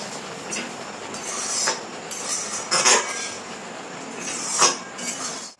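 Oil-free lemon pickle stirred in a pan, with repeated scraping and soft metallic clinks of a utensil against the pan over a continuous sizzling hiss, close and moderately loud.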